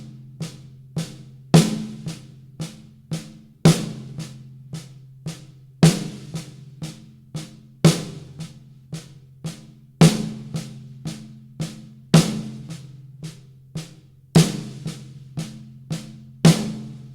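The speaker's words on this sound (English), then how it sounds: "So on the snare drum only, that would sound like this." A snare drum alone plays a paradiddle sticking with strong accented strokes and quiet ghost notes, a steady repeating rhythm of crisp hits, close and clear with no talking.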